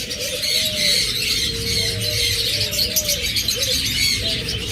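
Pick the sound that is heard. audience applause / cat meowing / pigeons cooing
pigeons cooing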